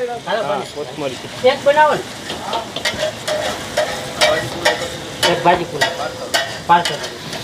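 Pav bhaji masala with coriander and pav pieces fry on a street-food griddle in Rajkot, with repeated scraping stirs and clanks over a steady sizzle while someone talks throughout.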